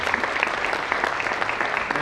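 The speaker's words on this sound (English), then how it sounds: "Please give a huge round of applause for them." A brief burst of dense, loud applause from a closing ceremony audience, steady and close for about two seconds.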